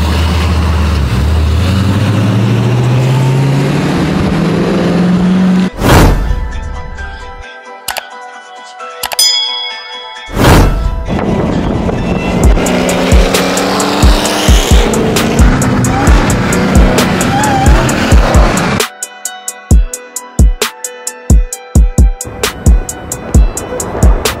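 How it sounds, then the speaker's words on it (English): A car does a burnout on an Atlanta street: the engine revs climb, then a loud, sustained roar of spinning, squealing tires, broken by short pauses and followed by sharp popping bursts near the end. "We might be able to get a little bit more if we do a burnout right now."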